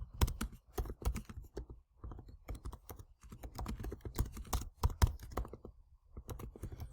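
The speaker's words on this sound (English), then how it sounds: "And you would type that in." Fingers type steadily on a computer keyboard, producing quick bursts of clicking keystrokes separated by brief pauses. No one speaks.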